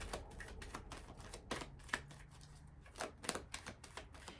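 Tarot cards are shuffled in quick, riffling bursts, a faint papery flutter and rapid tapping repeated several times in a quiet room.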